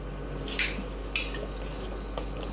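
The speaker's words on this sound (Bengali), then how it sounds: "একটু ভালো করে মিশিয়ে নেবো নেড়ে চেড়ে।" Vegetarian khichuri stirred in a pan, with a spoon clinking and scraping against the metal a few times over a low steady background hum.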